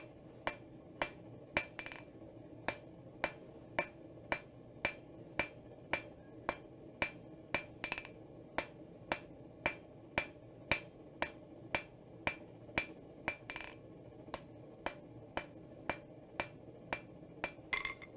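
Hammer striking metal in a blacksmithing session, working the piece back and forth: sharp, ringing blows at a steady, brisk rhythm, dozens in a row, close and clear over a quiet background.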